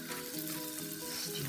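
Beef browning in a pan for a red wine stew, a steady dense sizzle and fry crackle running continuously and fairly close, with no talking over it.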